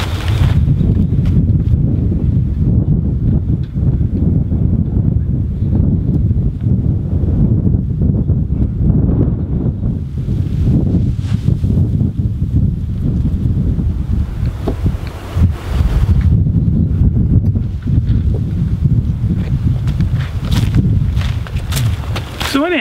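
Gusty wind buffets a garden row cover in a Zone 6 vegetable garden, a loud, constant low roar with flapping fabric and microphone wind noise, with someone talking over it.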